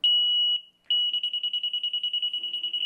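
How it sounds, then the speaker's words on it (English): A laser level's detector, used while hanging a pre-hung door, emits a high electronic tone, first held steady, then after a short gap repeating as rapid, even beeps close by. "You can hear the beeping tone as I come down and the line comes up against the center of the detector."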